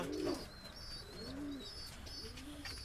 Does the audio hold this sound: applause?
no